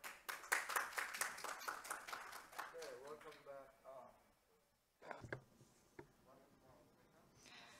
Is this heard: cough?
no